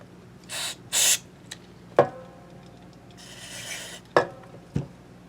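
Two short hissing spray bursts from a trigger bottle of cleaner onto a 1994 Mexican Fender Stratocaster, followed by scattered clicks, knocks and a softer rubbing sound nearby.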